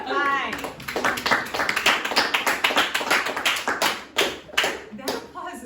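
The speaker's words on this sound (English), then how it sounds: "That applause better be for me, Jesse." Classroom applause during an algebra lesson, a burst of close, rhythmic clapping and tapping from a small group, with a voice speaking briefly at the start and some talk mixed in.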